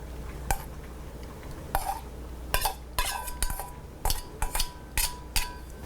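Cooked chicken being mixed into an enchilada filling in a bowl, with a spoon knocking and scraping against the dish in irregular clinks and clatters, spaced a second or less apart, close and fairly quiet with no talk.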